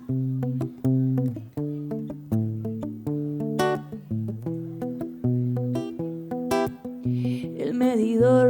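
A recording of a song plays, with steady plucked or strummed melodic notes in a repeating pattern and rising voices toward the end, clear and without talk over it.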